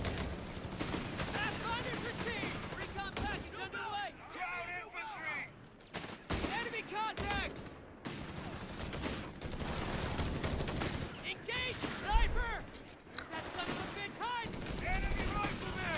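Sniper and machine gun fire in the video game Company of Heroes 3, bursts of gunfire and shots recurring through the clip beneath commentators talking.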